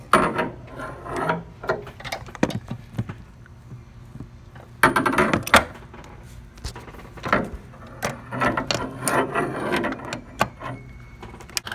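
A 15 mm ratchet tightens the brake master cylinder nut on a 2007 Cadillac DTS, producing bursts of rapid metallic clicking separated by pauses and handling clatter, heard close up.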